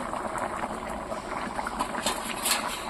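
Water poured into a hot pan of spicy chicken curry gives a dense, steady bubbling hiss that stays fairly loud and even for the few seconds it lasts, with no voices.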